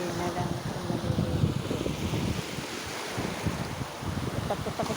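Big ocean waves surge and break on a windy beach in the afternoon, a steady broadband roar of surf mixed with gusty wind noise on the microphone, continuous and fairly close.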